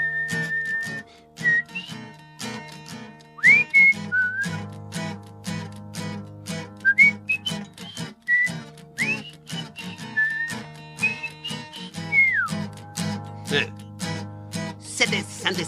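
A person whistles a bright melody in short rising and falling phrases, clear and close, over a steady rhythmic backing track with regular clicking beats.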